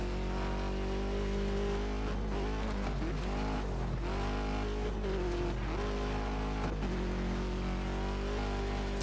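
Racing cars in the video game Colin McRae Dirt 2 roar continuously, steady engine drone with shifting pitch as the car overtakes rivals, loud and constant with no talking.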